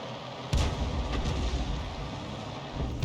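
A tank's main gun firing in a World War II tank game with a KV-1 and T-34, one sharp heavy boom followed by a low rumbling tail and a fainter second report.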